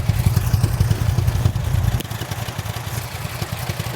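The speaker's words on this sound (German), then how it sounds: "Im Hintergrund steht jetzt der Bus und läuft." A bus idles in the background outdoors, a steady low rumbling throb that drops slightly in level partway through, with no voices.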